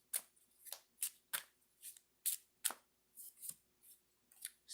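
Tarot cards drawn one after another from a deck, a quick run of about a dozen crisp, papery snaps and slides at close range, evenly spaced with short quiet gaps and no talk.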